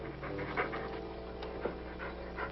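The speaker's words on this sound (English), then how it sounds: "Stop breathing down my neck, too." Heavy, panting breaths close behind someone in a classic 1949 jungle comedy, steady and rhythmic like an animal's, with a couple of louder gasps standing out, no talk over them.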